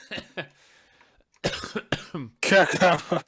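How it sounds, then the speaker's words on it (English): A person coughs several times in short, harsh bursts, close by, with brief pauses between them and a final louder, rougher cough. "Yeah, cough."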